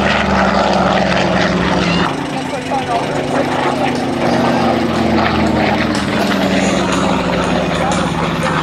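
A P-51 Mustang propeller plane at the Bellingham, Washington airshow roars steadily through its takeoff run, a loud continuous engine drone with a deep low hum that shifts pitch partway through as it accelerates.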